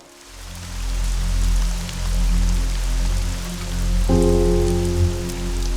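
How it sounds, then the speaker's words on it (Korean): Steady rain falls on a mountainside, a dense, continuous patter that swells and eases slightly, with low sustained musical tones underneath and no voices. "비가 오는 날"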